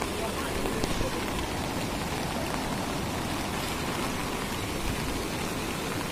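Heavy monsoon rain pours steadily during flooding in Chakradharpur, India, a dense, even roar of drops on surfaces that continues without a break, loud and close throughout.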